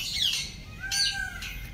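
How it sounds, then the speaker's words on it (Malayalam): A peacock calls in a nature park in Gujarat, giving a few loud squawking cries close by, one with a rising and falling wail. "മയിലിൻ്റെ കരച്ചിൽ കേൾക്കുന്നുണ്ടേ"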